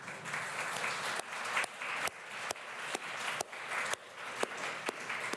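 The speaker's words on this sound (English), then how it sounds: "Keep on clapping as he makes his way up there." Steady audience applause at a conference welcoming an honoree as he walks up, a dense continuous wash of clapping broken by a few louder, sharper claps close by.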